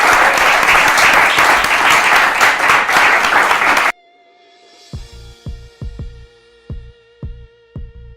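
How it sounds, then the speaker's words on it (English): Loud, dense audience applause for an artist panel at a Black art talk lasts about four seconds and cuts off abruptly, followed by a spaced series of deep, thumping musical beats. "And so let's give my panel a round of applause."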